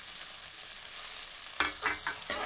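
Curry leaves, coriander and tomato sauté in a pan for a dried fish curry, a steady close sizzle punctuated by a few brief stirring scrapes in the last second.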